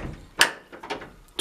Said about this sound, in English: And twisting it lifts the latch.